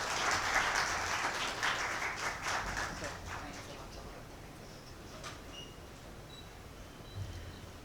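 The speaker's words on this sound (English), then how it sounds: "can we have a loud round of applause from all of you?" An audience at a supply chain talk gives a round of applause, the clapping loudest at the start and fading away within a few seconds into quiet room noise.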